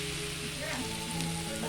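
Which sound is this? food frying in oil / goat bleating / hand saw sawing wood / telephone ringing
food frying in oil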